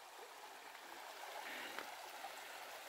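Creek water flows at a hiking trail crossing in the Big South Fork backcountry, a soft, steady rushing wash heard faintly and continuously.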